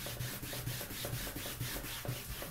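Stain is rubbed onto vinyl fabric with quick, even back-and-forth strokes, a close scratchy swishing repeating in a steady rhythm with no voices.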